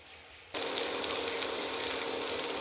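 Cauliflower pieces fry in hot oil in a pan, a sudden loud sizzle that bursts in after a quiet moment and holds steady as a bright, crackling hiss.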